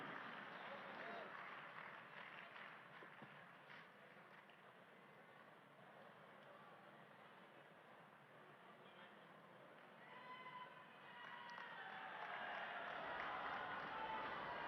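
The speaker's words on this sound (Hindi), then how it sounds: "और तालियों की आवाज के साथ, करतल ध्वनि के साथ आप सबकी शुभकामनाएं भी" A crowd applauds at a house key handover ceremony at an event in Ashok Vihar, Delhi. The clapping is faint and distant, runs steadily, then swells toward the end, and a voice talks over a loudspeaker in places.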